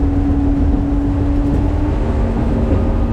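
A Bayrunner T-top boat's main engine runs steadily nearby, a continuous low droning hum with a faint tonal whine and no change in pace or any voices.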